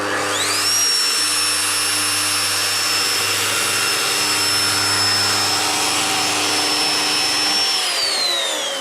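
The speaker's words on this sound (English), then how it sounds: "The groove was milled successfully." A Festool PF 1200 plate joiner spins up and mills a groove into plastic material, a steady loud high-pitched whine held for several seconds before winding down, with no voices.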